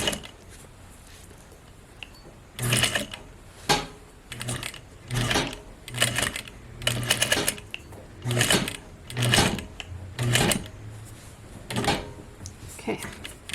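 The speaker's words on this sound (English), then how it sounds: "I'm going to stitch right over it a couple times" Sewing machine stitching back and forth across a belt loop on a pair of pants, several short bursts of rapid mechanical whirring with brief pauses between them, close and clear.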